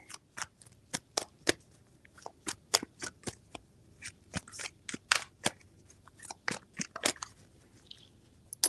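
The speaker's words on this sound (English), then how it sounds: "Five shuffles." Tarot cards being shuffled in a series of sharp, quick riffles and snaps, close and fairly quiet, with short bursts spaced irregularly and no talking.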